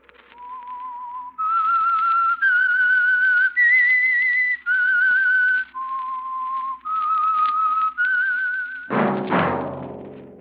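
A solo human whistler carries the theme melody of The Whistler radio drama: a series of sustained, clear pitched notes stepping up and down, loud and close, ending in a sudden swelling burst of orchestral sound.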